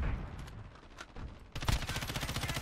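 Semi-automatic gunfire in Call of Duty: Modern Warfare, a quick run of sharp shots that swells into a denser, louder burst of rapid fire.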